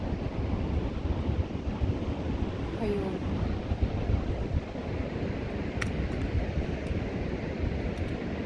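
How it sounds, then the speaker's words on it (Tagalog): Pacific Ocean surf breaks along the shore at San Francisco, California, a steady loud wash of waves with heavy wind rumble on the microphone, and a voice briefly speaks. "Ang baybayin ng dagat Pacifico dito sa may San Francisco, California."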